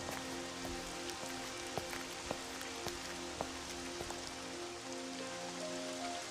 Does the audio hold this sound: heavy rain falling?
yes